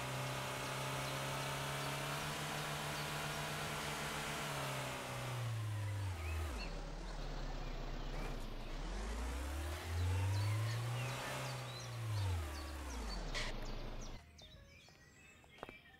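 A car in the Trader Life Simulator 2 video game revving hard through rising and falling engine sweeps, accelerating twice with gear changes before dropping back to a quiet idle; loud and close.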